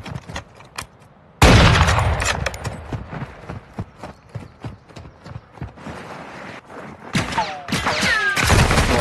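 Video game gunfire in a multiplayer shooter, with bursts of rapid, loud shots and sharp cracks starting abruptly after a quieter opening, continuing irregularly through the clip with some whizzing effects near the end.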